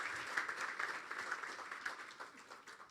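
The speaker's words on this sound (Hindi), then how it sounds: "मैं कहती हूँ उन बच्चियों के लिए ज़ोरदार तालियां बजाएं।" Audience applause in a church for young girls from Ethiopia at a sermon, a steady wash of many hands clapping for three seconds with no speech over it.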